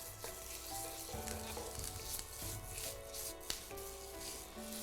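A thick momo filling mixture frying and melting in hot oil in a pan, a steady close sizzle with occasional stirring scrapes and a spoon knock, no voices.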